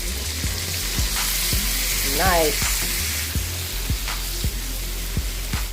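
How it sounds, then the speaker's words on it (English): Loud, steady sizzling of green beans frying in butter and salt in a pan, with rhythmic stirring scrapes; a voice briefly speaks once. "we're gonna start frying the green beans with some butter and salt"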